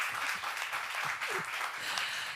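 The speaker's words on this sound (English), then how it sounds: "Round of applause for all of you." Steady applause from a crowd at a deep tech accelerator demo day, a dense clatter of clapping that holds at an even level for a couple of seconds, with no speech.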